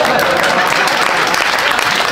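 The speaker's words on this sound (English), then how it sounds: "Round of applause." A crowd in a live talk setting bursts into loud, dense applause that stays steady and unbroken throughout, close and full-bodied with no speech on top.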